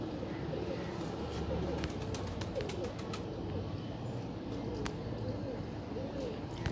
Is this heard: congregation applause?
no